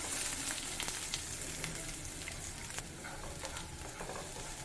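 Chopped onions sautéing in a pan while cooking raw banana fry, giving a steady soft sizzle and crackle with a few sharper pops, close and continuous, with no voices.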